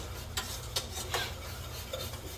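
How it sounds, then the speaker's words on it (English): A whisk worked hard through grits in a pot makes rough scraping strokes, a few sharper swipes standing out over a continuous gritty rustle, close and fairly quiet. "just stir and stir and stir really hard"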